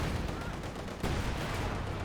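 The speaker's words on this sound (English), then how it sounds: "looks like light artillery rolls a miss" Light artillery fire in Company of Heroes 2, a steady rumble of distant battlefield gunfire with a sharper impact near the middle, running continuously without speech.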